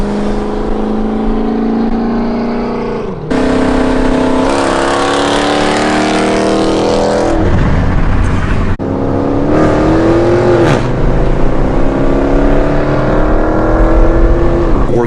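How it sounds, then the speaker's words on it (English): A Chevy SS four-door sedan's engine revs hard and loud, climbing through gears, with sharp drops in pitch at each shift and rising again in repeated pulls. "The shifts on that thing sound nice."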